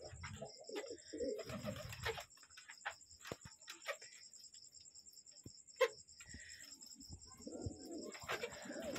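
Pigeons coo softly at a small backyard pigeon farm housing about 25 pairs, scattered low calls over a steady, thin insect-like whine, with a few nearby clicks and knocks.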